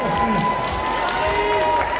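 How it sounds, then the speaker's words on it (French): A crowd cheers and applauds at a fan convention gaming event, NECRONOMI'CON 2023: sustained mixed shouts, whoops and clapping from a sizable audience, loud and continuous throughout, with voices calling out over the noise. "On applaudit très très fort cet homme"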